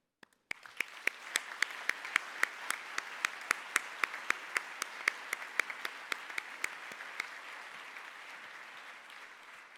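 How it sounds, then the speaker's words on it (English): A hall full of graduates at an EMBA graduation ceremony breaks into a sustained round of applause. Dense, steady clapping from many hands starts abruptly and holds evenly throughout, with sharp individual claps standing out from the wash. "Let us take a moment to give ourselves a huge round of applause."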